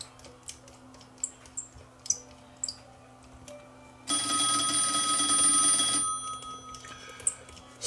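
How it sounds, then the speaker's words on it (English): An old telephone's bell rings once in a sustained burst of about two seconds, moderately loud indoors, with faint ticking and clicks from a workbench before and after. "Seems like the only time the phone ever rings"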